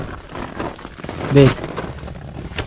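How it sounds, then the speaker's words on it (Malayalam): Light rain patters on a tent at a campsite, a soft, steady hiss of drops close by, with a brief vocal sound partway through. "ചെറുതായിട്ട് മഴ ചാറുന്നുണ്ട്, സൗണ്ട് കേൾക്കാം."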